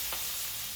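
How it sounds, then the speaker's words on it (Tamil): Green beans sauté uncovered on low flame in a pan, giving a soft, even sizzle with one quick scrape near the start. "வதக்கி எடுக்க போகிறேன்."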